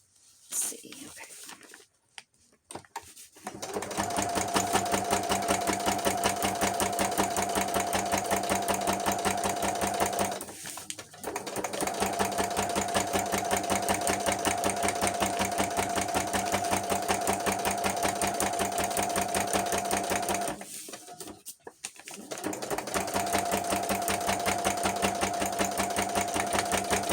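A sewing machine stitches through the pages of a junk journal in three long, steady runs of rapid, rhythmic chatter. Brief pauses separate the runs, and the sound is close and continuous.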